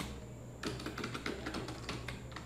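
Quick typing on a computer keyboard, a close, dense run of light key clicks after a short quiet start, with no voices over it.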